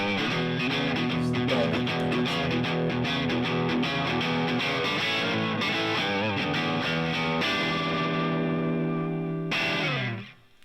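A distorted electric guitar with Silent Js pickups plays sustained chords through an amplifier with chorus-like shimmer, loud and continuous, then fades away at the end.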